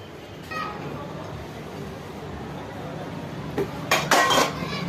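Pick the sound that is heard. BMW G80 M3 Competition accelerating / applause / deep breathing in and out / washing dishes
washing dishes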